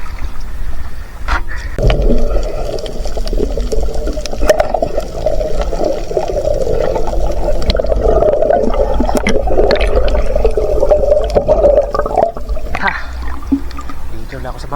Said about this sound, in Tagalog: Grabe, lalaki na yung alon.